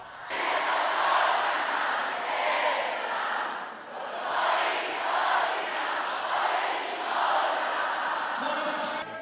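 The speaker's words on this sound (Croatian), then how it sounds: "Publika pjevala i sve glasom." Concert audience singing along loudly in unison, a dense mass of voices swelling and easing in waves for several seconds at a rock show with tamburica music in a Slavonian town on the Sava.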